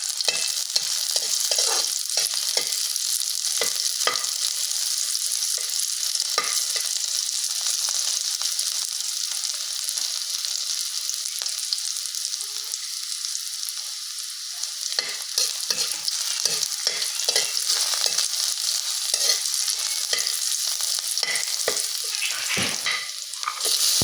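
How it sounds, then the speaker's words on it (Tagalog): Onion and garlic sautéing in a pan, a loud, continuous sizzle throughout, broken by frequent scraping and stirring strokes of a utensil against the pan. "Gisa muna natin sa sibuyas at bawang."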